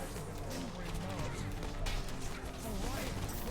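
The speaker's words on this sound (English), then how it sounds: "Sounds of shattering glass and screaming crowds echo from the streets of the city." A video game riot on the streets of Paris: glass shatters and an angry crowd screams in a dense, continuous wall of crashes and shouting that stays loud from start to finish.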